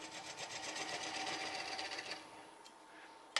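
A bowl gouge cuts into a spinning natural-edge basswood bowl on a lathe, a steady close shaving whir with rapid rhythmic chatter that fades out, ending with a small knock.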